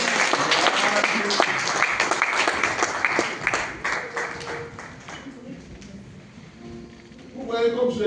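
A church congregation applauds during a Sunday service: a steady wash of many hands clapping that thins out, with voices and music rising toward the end.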